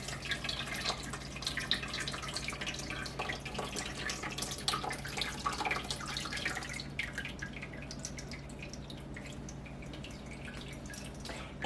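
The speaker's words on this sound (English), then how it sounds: "I'm going to run it through my food mill here and just let the liquid and juices come out the bottom" Tomato liquid and juices filter through a hand-cranked food mill into a bowl for a copycat barbecue sauce, a steady patter of drips that thins out midway and carries on alone without speech.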